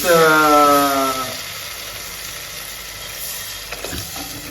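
Food sizzles and crackles in a hot pan while sautéing for a Kanchipuram-style curd curry, loudest at the start and then settling into a softer steady fry, with a few light clinks.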